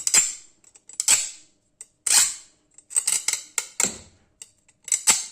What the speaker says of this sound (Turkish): bir demir testere yardımıyla bu şekilde yapmanız gerekir